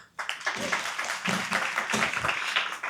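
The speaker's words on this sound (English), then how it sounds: "Please help me put a hand together for them." Audience applause from a crowd at a sponsored evening networking event, a dense steady wash of many hands clapping that starts abruptly and holds at even strength throughout.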